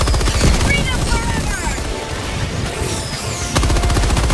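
Rapid automatic gunfire from a weapon set to 900 rounds per minute, its maximum fire rate, in the video game Helldivers 2, a dense loud fusillade running throughout with brief dips amid other battle noise.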